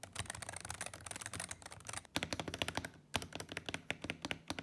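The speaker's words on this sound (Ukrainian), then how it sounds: "Сьогодні ми говоримо тільки про звук тайпінгу." Fast, close keystrokes on a 3000-hryvnia mechanical keyboard with linear switches, a steady stream of sharp clacks broken by two short pauses.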